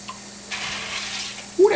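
Cold tap water runs into a container of dried beans being rinsed, making a soft, steady splashing rush that swells in the second half, with a brief voiced sound at the end.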